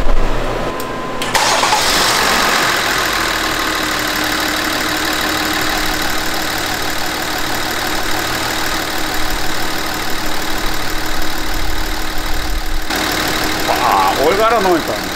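A 2014 Hyundai Veracruz with 300,000 km, fresh from new injectors and intake parts, cranks and fires up, then settles into a steady, even idle close by while people talk in the background.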